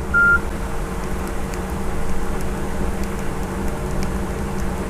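A single short keypad tone from a Nokia 5630 phone sounds near the start, followed by steady background hum and noise with no further clear beeps.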